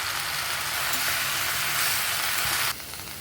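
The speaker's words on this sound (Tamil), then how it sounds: "புதினா சேர்த்து ஒரு 2 நிமிஷம் வதக்கினா போதும்" Mint leaves sauté with coconut in a hot pan for a chutney, giving a steady, bright, hissing sizzle that continues unbroken and then drops abruptly in level near the end.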